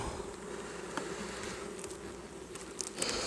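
Honeybees buzz in an opened hive, a steady close, dense drone with a few brief louder swells.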